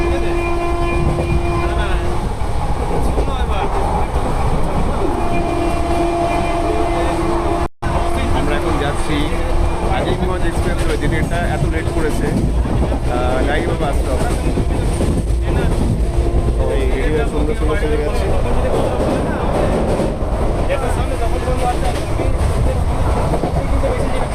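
A train runs along a line in Bandel, near Kolkata, its loud continuous rumble and rattle steady for the whole stretch, with a faint high tone near the start and people talking beneath the noise.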